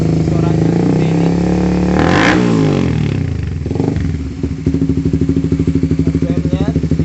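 Suzuki GSX-R150 motorcycle fitted with a 32 cm Lone Rider aftermarket exhaust and road race header, revved hard nearby, with throttle blips that rise and fall and then settle back to a fast, loud, chopping idle.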